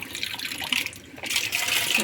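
Water runs from a household tap in a brief, steady rushing stream that swells louder toward the end, close by with no voices.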